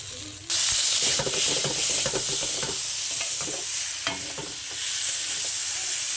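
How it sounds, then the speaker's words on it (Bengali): Spice masala with chopped tomato fries in a pan for a fish curry, a loud steady sizzle that kicks in suddenly, with repeated stirring scrapes through it, close and without voices. "আমি এর মধ্যে দিয়ে দেবো টমেটো কুচি এরপর দু মিনিট মতো মশলাটা ভালো করে করছি এইভাবে"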